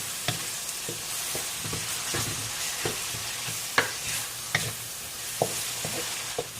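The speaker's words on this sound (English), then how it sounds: "We're going to saute all of the ingredients, the garlic, the onions, and the tomatoes together with the meat." Garlic, onions, tomatoes and meat sautéing for pansit malabon, with a steady sizzle in the pan broken by regular scraping knocks of a spatula stirring, close and fairly quiet.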